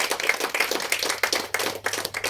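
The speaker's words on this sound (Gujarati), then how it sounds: "સૌ તાળીઓના ગળગડાટ સાથે બંને મહાનુભાવોને આપણે વધાવી લઈએ" An audience at a Matru Vandana mothers' honouring event held by a cultural club claps to welcome two dignitaries, giving dense, steady applause with close, overlapping hand claps throughout and no talking.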